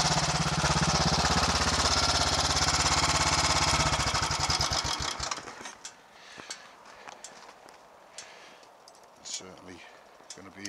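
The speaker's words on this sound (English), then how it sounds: "So I'll switch it off, try and restart it." A Royal Enfield 500 Electra X motorcycle's single-cylinder engine runs loud and thumping, then is switched off and cranked again with a few weak, sputtering attempts while someone talks quietly.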